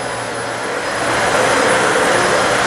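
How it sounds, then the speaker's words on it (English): A Dyson Slim Ball vacuum cleaner runs over a dirty carpet, giving a loud, steady, close-up motor roar with rushing airflow that swells slightly as it goes, with no voices. "You hear all the dirt that's in the carpet."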